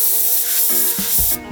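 A paint spray gun sprays candy cobalt blue automotive paint in a loud, steady hiss that cuts off abruptly near the end, with faint mechanical clicks underneath.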